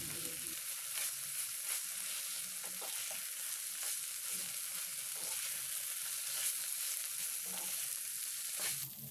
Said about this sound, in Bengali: এগুলোকেও ভালোভাবে মশলার সাথে ভেজে নেব